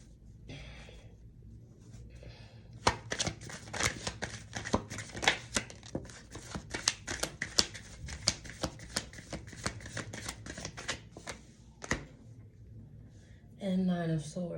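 Tarot cards are gathered up and shuffled in a long run of quick, crisp riffling flicks close by, with brief pauses. A voice speaks softly now and then.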